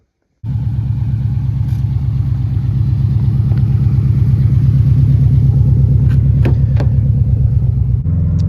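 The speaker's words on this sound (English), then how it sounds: "let's jump to the car and see some clips of road tuning with Joel." A built Subaru WRX STI is driven on public roads during tuning, its engine a loud, steady, low rumbling drone heard from inside the car, holding near-constant for several seconds after starting abruptly.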